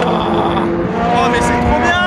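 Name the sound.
Alpine and Toyota endurance race cars passing at Portimao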